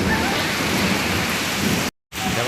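Heavy rain driven by strong wind hisses in a dense, steady roar during a storm in rural Odisha, close and loud, briefly cutting out for a moment before resuming.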